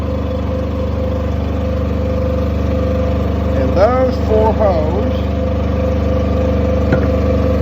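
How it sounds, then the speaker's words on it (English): A steady engine-driven generator hums loudly throughout, beside a 2013 Peterbilt truck, with someone talking briefly over it partway through. "Sorry about the noise, generator's on."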